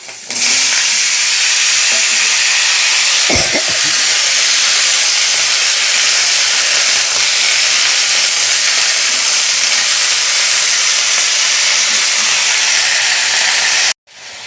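Green chillies cracking in hot oil with five-spice seeds, then vegetables added, give a steady loud sizzling hiss that runs almost unbroken, with a brief clatter near the start and a sudden cut just before the end.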